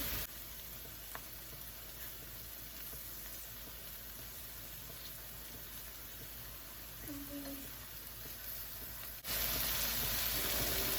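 Plantain frying in a pan for a Southern plate with lechon kawali and sautéed greens, a steady hiss of sizzling oil throughout that grows brighter and louder near the end, with no talking.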